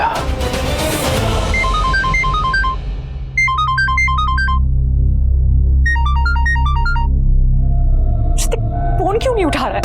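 A melodic phone ringtone chirps in repeated bursts of short electronic notes at night, ringing loud over a dramatic musical underscore, pausing and starting again.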